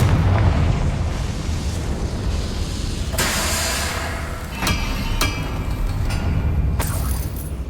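A Confringo spell blast in the Hogwarts Legacy video game bursts amid a rumbling, busy fight, with several sharp explosive cracks and booms over a continuous low roar.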